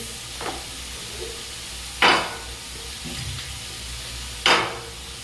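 Mixed vegetables and paneer frying in a pan for vegetable paneer rice, with a low continuous sizzle broken by a few sharp utensil scrapes or knocks against the pan, close by and without speech.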